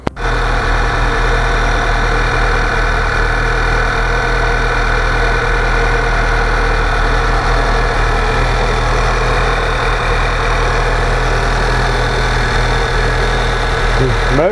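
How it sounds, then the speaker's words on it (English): A 2009 Volkswagen CC Sport with a direct-injection engine idles steadily and close by, a continuous low hum with a faint ticking texture and cooling-fan whir blended in, running without a break. "I'll just start it up and let you hear it now that the fans don't run constantly. You can hear the motor better."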